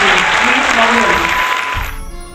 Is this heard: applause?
yes